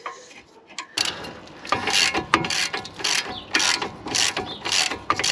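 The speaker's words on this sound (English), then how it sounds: "So if you use a breaker bar in the correct socket, you should be able to get it off without much of a problem." A breaker bar and socket working loose a brake bolt on a Vauxhall Insignia, giving a run of close, irregular ratcheting clicks and metallic creaks that begin after a brief quiet and continue steadily.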